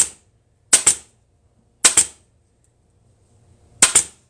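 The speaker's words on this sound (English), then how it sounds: "run my diagonal staples within a 1/2 inch of each other all the way up this line" Three sharp pneumatic staple gun shots drive staples diagonally into mid-century modern recliner upholstery fabric, each a quick double snap close by, spaced about a second apart with quiet between.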